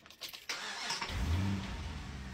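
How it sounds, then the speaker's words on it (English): A Holden VZ Commodore with an LS1 engine that will not start gives a short burst of starter cranking that swells into a low mechanical churn. It sounds close and fairly quiet, with no talk. "It'll crank but may not start."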